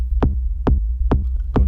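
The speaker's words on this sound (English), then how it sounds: "I've made it a MIDI clip for the kick drum," A kick drum loop sequenced on an Elektron Digitone synthesizer in a techno context, four evenly spaced punchy thumps with a clicky attack over a low droning bass bed, close and alone.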